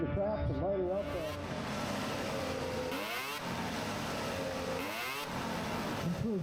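A racing snowmobile accelerates hard through the speed traps, its loud engine rising in pitch twice as it passes, with a commentator talking over the noise.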